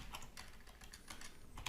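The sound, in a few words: typing on a new computer keyboard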